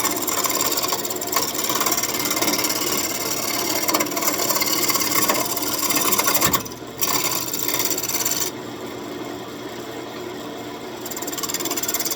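An oak newel post cap for an antique staircase is turned on a wood lathe, giving a loud, continuous raspy cutting and rubbing noise with a brief drop midway, then a steadier, slightly quieter whir.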